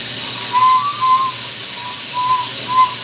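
A thin, steady whistle comes and goes in several brief tones over a constant hiss as a glassworking torch flame hits a glass rod.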